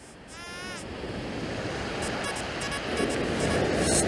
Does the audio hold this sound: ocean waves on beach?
yes